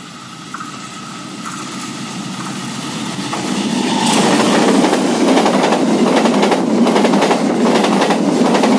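A train approaches and rolls past close by, its rumble and rhythmic clatter building to a loud, steady roar that fills the rest of the clip.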